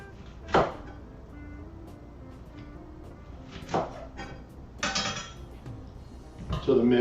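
Lemon squeezed over tomato-less guacamole and mixed in a bowl: a few separate clinks and scrapes of a utensil against the bowl, spaced irregularly, with quiet handling between, up close and without speech.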